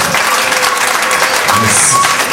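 A large audience applauding steadily, a dense, continuous wash of clapping heard throughout, with faint voices mixed in.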